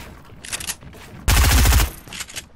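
Gunfire in a shooting and building video game: a short burst of rapid automatic shots, loud and close, framed by fainter scattered shots and game noise before and after.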